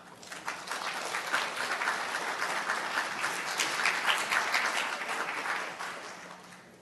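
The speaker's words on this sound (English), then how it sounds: "Please give a round of applause for Karen Yelverton." Sustained applause from a conference audience at a business summit, greeting a performer as she is introduced; dense, steady clapping that swells through the middle and tapers off at the end, with no talking over it.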